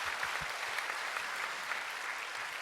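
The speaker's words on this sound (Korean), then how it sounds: "한번 박수 한번 해주세요" Steady applause fills a church hall during a Sunday sermon as the congregation claps for its youth group, a dense even wash of many hands that holds at one level for the whole stretch, with no voices above it.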